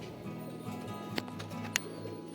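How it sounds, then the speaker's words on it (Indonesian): Pigeons coo in low, repeated throaty murmurs close by, joined by a couple of sharp clicks or flaps, with no one speaking. "ini dia merpati saya"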